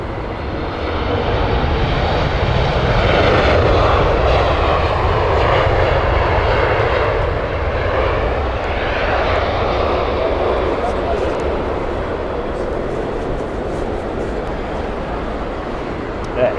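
A British Airways shuttle airliner on the Aberdeen flight at Heathrow roars past, a loud, sustained jet engine rumble and whine that swells and then slowly fades, with voices talking over it.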